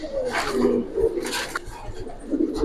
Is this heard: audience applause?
no